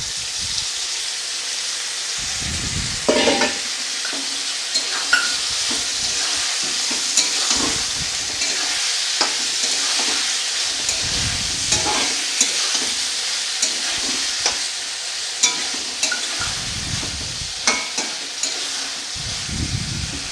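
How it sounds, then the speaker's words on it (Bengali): Marinated chicken sizzles loudly in a pan for a chicken curry with potatoes, a steady hiss broken by repeated scraping stirs of a spoon against the pan, close up, no voices. "দেখুন এবার এর মধ্যে আমি ম্যারিনেট করা মাংসটা দিয়ে দেব।"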